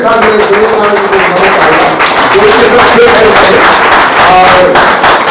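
Dense, steady audience applause at a Rain BNB seminar in Mandi, Himachal Pradesh, welcoming a guest, loud and continuous throughout with voices mixed into the clapping.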